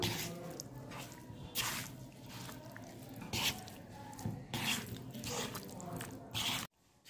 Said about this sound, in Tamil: உப்பு இது இப்போ நம்ம நல்லா மிக்ஸ் பண்ணிக்கலாம்